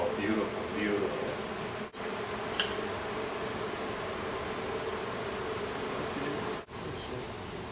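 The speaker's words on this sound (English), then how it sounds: "I got a lot of bees up there." Honey bee colony inside the wall of a two-story house, a dense continuous buzzing drone heard up close, broken by two brief dropouts, with faint human sounds in the background.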